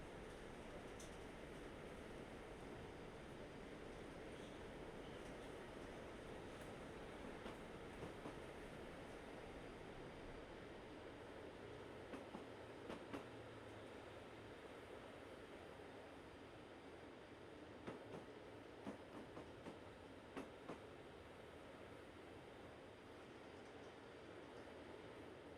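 Train running on rails in the Train Life railway simulator, on a passenger and mail service from London to Calais: a steady, moderately loud rolling rumble throughout, with occasional brief clicks from the rails.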